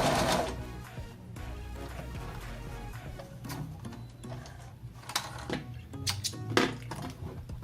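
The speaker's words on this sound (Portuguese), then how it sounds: "Nós podemos costurar com pontos mais curtinhos ou ajustar a nossa máquina para pontos mais largos." A domestic sewing machine stitches in rapid mechanical bursts with rhythmic clatter and ticking, pausing and restarting, close and fairly loud with no talking.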